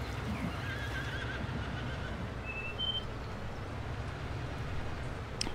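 A horse in the farming game Landwirtschafts-Simulator 19 gives a short whinny over a steady bed of ambient game noise, with no talking.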